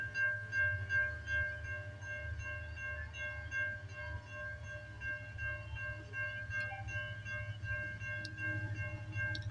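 A CN freight train at Stewarttown on a rainy day sounds its horn, a sustained multi-tone blast held steady for several seconds over the low rumble of locomotives, heard from trackside.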